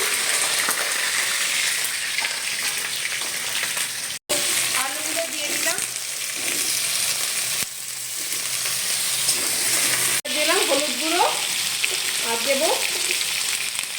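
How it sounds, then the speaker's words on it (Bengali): Dried chili, bay leaf and whole cumin frying in mustard oil give a loud, steady, close sizzle for the whole stretch, broken by two brief cuts, with a faint voice murmuring underneath. "এখানে আমি দেখো সরষের তেল দিয়ে দিয়েছি আর দেবো শুকনো লঙ্কা তেজপাতা আর দেবো গোটা জিরে"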